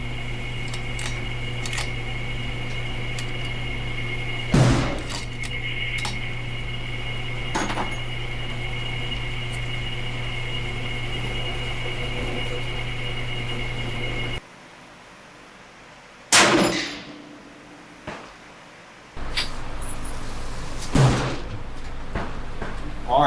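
A rifle shot cracks loudly from the firing position over a steady fan-like hum, and after a short pause a sharp metallic ping rings out from a steel plate at 200 yards, fading quickly.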